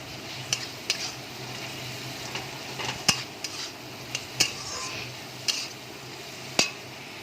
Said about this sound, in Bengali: মিশিয়ে নিয়ে ভালো করে কষিয়ে নেওয়ার পর এবার আমি পটল আর আলুগুলো ছেড়ে দেবো